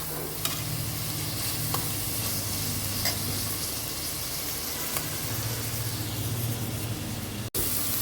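Ground masala paste fries with softened tomatoes in a pan for quail gravy, giving a loud, continuous sizzle with stirring scrapes and a brief break near the end; no one speaks.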